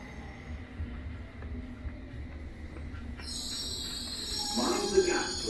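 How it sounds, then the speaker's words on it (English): A London Underground train pulls into the platform at Victoria station with a low rumble that builds steadily, then wheels squeal sharply and loudly near the end, over general station murmur. "please stand behind the yellow line as the train approaches."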